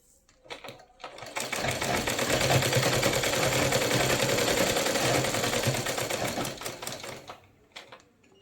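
A sewing machine stitches the waistband onto a Rajputi kalidar lehenga, opening with a few short taps before running in one loud, rapid, steady burst of about six seconds and then slowing to a stop.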